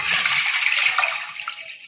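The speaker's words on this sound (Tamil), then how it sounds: "தண்ணி ஊற்றுறேன்." Water pours steadily into a pot on a gas stove, a bright rushing splash close by that tapers off slightly toward the end, with no voices.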